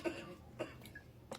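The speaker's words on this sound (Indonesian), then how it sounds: "Batuk." Coughs from a person with a headache and cough, two or three short harsh bursts spaced apart at moderate level, with faint murmuring between them.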